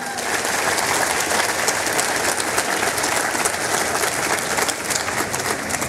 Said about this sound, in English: So let's give them applause for graduating.